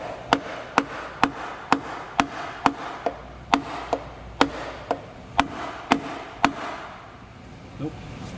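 Sharp metallic taps on the oil pan of a Jeep Liberty with a 3.7 V6, about fifteen evenly spaced strikes close by, with no talk between them.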